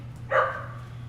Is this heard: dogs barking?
yes